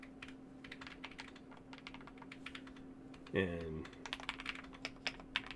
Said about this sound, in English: KCA profile keycaps really kind of show off the sound